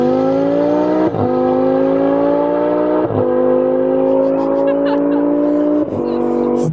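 A Lamborghini Aventador accelerates hard from first gear, its loud, close engine note climbing in pitch through three quick upshifts, each marked by a brief dip before the howl builds again.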